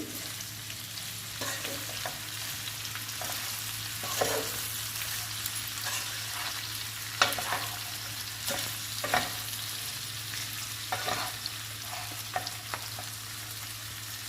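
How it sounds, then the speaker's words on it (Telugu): Ivy gourd frying with onion, green chili, salt and chili powder sizzles steadily in a pan while a spatula scrapes and stirs in irregular strokes, with a low hum underneath. "ఉల్లిపాయ, పచ్చిమిర్చి, దొండకాయలు, ఉప్పు, కారం అన్నీ కలిసేటట్టు కలుపుకోవాలి"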